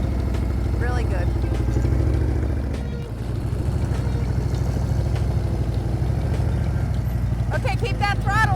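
A motorcycle engine idles and pulls gently during slow stop-and-go practice in a crowded setting, a steady low throb that dips briefly then recovers, with an instructor talking over it throughout.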